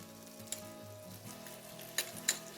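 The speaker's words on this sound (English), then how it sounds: "And to it, we'll add 1 tablespoon of minced garlic and 1 tablespoon of grated ginger, along with our Thai chilies." Minced garlic, grated ginger and Thai chilies sizzle in hot oil in a pan, a steady close crackle with a few sharp clicks of stirring.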